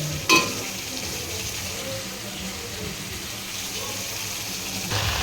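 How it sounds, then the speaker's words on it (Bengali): Gourd greens stir-fried with poppy seeds in a pan, a continuous close sizzle and crackle with stirring, a sharp knock near the start and a louder rise at the end. "দেখো শাকটা দিয়ে দিয়েছি পোস্তের সঙ্গে, ভালো করে কষিয়ে নিয়ে"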